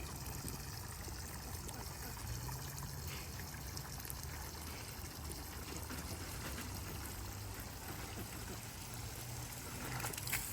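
A garden hose runs water into a livestock trough on a homestead, a continuous soft pouring and trickling that stays steady and fairly faint from start to finish.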